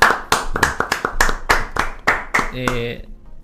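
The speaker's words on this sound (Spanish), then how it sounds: "Cerramos con un fuerte aplauso para Luis Cálcara y para todos los veteranos." Scattered hand claps ring out in a radio studio, closing a segment honoring Malvinas war veteran Luis Cálcara and fellow veterans; a few sharp, close claps in an uneven rhythm, with a voice talking over them near the end.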